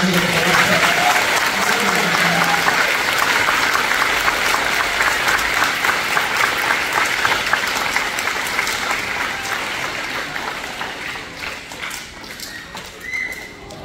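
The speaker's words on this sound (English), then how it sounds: "Can we give them a round of applause?" A school assembly audience gives sustained applause for prep to year two academic achievement award recipients, a dense, steady roar of many hands that slowly fades over the length of the clip.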